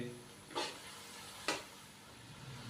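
Tomato and spice masala fries in a pan with a soft, steady sizzle, broken by two brief louder surges of hissing as it is stirred, close and fairly quiet with no voices.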